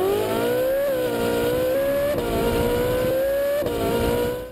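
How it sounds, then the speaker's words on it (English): A high-revving Ferrari 4.5-liter engine screams through repeated upshifts, pitch climbing then dropping at each gear change, loud and sustained. "listen to this engine sound from the Ferrari"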